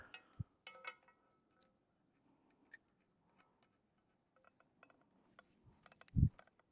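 A bipod being screwed onto Emlid surveying equipment, faint scattered mechanical ticks, clicks and light clinks with a dull thump near the end, in a quiet room.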